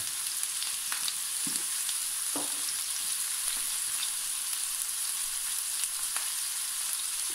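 Ground beef frying in a pan over medium heat, a steady bright sizzle with a few soft scrapes and knocks of stirring, moderately quiet and with no talking.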